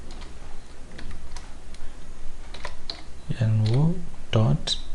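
Computer keyboard typing in a Revit session, quick irregular key clicks running throughout, close, with a voice talking briefly near the end.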